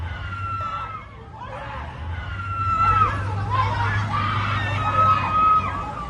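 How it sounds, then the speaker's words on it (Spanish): A mother screams in anguish as car thieves drive off with her son, her cries rising and falling over street noise and a low engine rumble, with other voices clamoring faintly around her. "En este video se escuchan los gritos desgarradores de una madre"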